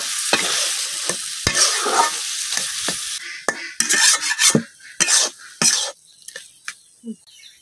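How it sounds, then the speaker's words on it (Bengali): Taro leaves stirred with spice paste in a pan, a spoon scraping and clinking against the metal in irregular strokes over a steady, loud sizzle that thins toward the end. "মশলার সাথে কচু শাকটা খুব ভালোভাবে লাগাই সাথে মিশাই নিলাম"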